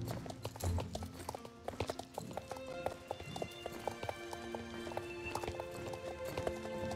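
Horse hooves clip-clop steadily in the riding game Star Stable, a quick, even rhythm of hoofbeats over a faint background with an occasional whinny.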